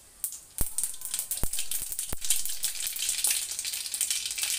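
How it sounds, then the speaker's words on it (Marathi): Mustard seeds thrown into hot oil in a kadhai crackle sharply, with loud scattered pops over a constant close sizzle that grows denser as they heat. "तेल आपलं गरम झालंय, आता आपण टाकायचं इथे मोहरी"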